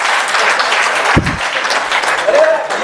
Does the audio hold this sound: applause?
yes